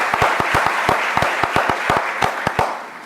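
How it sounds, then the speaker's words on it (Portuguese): Audience at an international civil procedure symposium clapping for an interpreter, a loud, close crowd patter punctuated by distinct sharp individual claps throughout. "Un aplauso para Cláudia, por favor."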